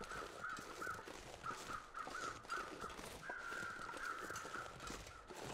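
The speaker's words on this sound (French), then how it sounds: "J'entends les corbeaux de l'autre côté aussi." Crows cawing in the survival video game The Long Dark, a series of repeated harsh caws in short bursts, continuing steadily over a background of wind and faint footsteps.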